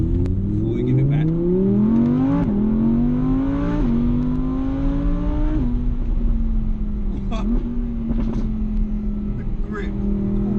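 A 2016 Audi R8 V10 Plus accelerates hard, its engine note climbing steeply through several gears with sharp drops at each upshift, loud and close from inside the cabin while a driver talks.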